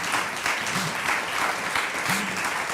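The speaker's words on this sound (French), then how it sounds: "si ça vous a plu, vous pouvez applaudir" A conference audience applauds steadily throughout, a dense, even wash of many hands clapping at moderate loudness, with a faint voice surfacing briefly underneath.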